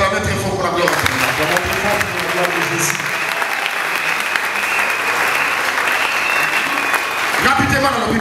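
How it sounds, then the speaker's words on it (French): A church congregation bursts into loud, sustained applause and cheering, a dense wall of clapping that holds steady for several seconds and fills the room, with voices rising within it. "Tu vas acclamer très fort pour la gloire"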